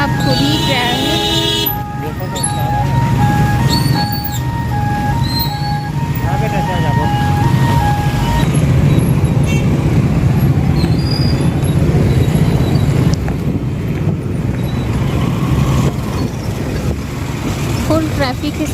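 Dense main-road traffic outside Magneto Mall in Raipur, a steady loud roar of engines with horn toots and tonal honks in the first half, continuous throughout with voices mixed in.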